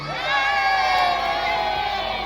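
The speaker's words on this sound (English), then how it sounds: "Make some noise for Eezzy" A lively crowd at a birthday stage show cheers and shouts, with high whoops and excited children's voices layered into a loud, sustained roar.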